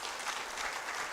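Audience applauding at the opening ceremony of the WACCBIP 10th anniversary research conference, a dense, even roar of many hands clapping at a distance, steady throughout with no voices over it.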